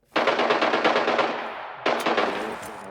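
Automatic gunfire in Arena Breakout, a loud rapid burst lasting over a second, then a short pause and a second burst, close and alone.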